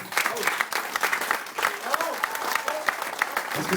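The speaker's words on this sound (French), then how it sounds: "je voudrais qu'on leur fasse un applaudissement ce soir" Lively applause at a 30th birthday party, loud and close, with cheering and voices mixed into the clapping throughout.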